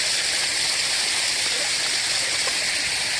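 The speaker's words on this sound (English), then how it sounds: "It's coming fresh out of a spring." Fresh spring water gushing out of the ground, a steady close hiss and splash that holds level and fairly soft throughout with no voices.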